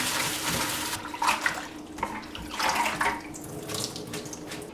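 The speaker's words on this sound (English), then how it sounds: "Just give these a quick rinse." Tap water runs steadily while purple tree collards are rinsed under it in a kitchen sink, a close, continuous splashing with small surges as the leaves move through the stream.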